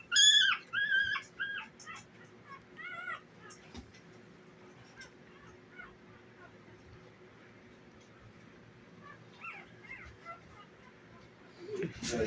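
Five-day-old puppies whimper in high, thin bursts, a cluster of cries at the start and more returning near the end, close and fairly faint over a quiet room with a person talking softly.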